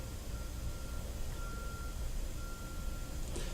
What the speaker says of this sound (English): I don't know if you can hear that beeping noise, but that's actually some road construction going on